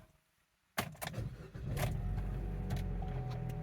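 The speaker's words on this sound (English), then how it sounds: "Okay, the car is running" After a quiet start, a Chevy Cruze engine with a new vacuum pump cranks and catches with a clunk, then settles into a steady low idle rumble, close by.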